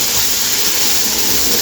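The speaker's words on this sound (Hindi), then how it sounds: "इसको हमने थोड़ी देर भूनना हो अच्छी तरीके से" Green chillies frying in a pan for dhaba-style chicken masoor dal, a dense, even hiss of sizzling oil, close and constant with no voice over it.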